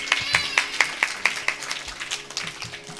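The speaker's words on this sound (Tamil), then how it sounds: "அதுக்கே உங்களெல்லாம் பாராட்டணும், கைத்தட்டணும்." An audience at a temple devotional bhajan gathering claps, a run of distinct near claps that thins into scattered, softer applause, with faint talk underneath.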